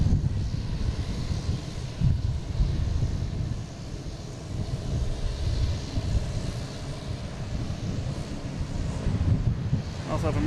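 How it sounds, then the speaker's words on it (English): An American Airlines plane from Charlotte lands on runway 4 left at Boston Logan, a continuous broad jet roar with heavy wind noise on the microphone. Someone talks over it. "Also have American Airlines coming from Charlotte, zipping in on 4 left."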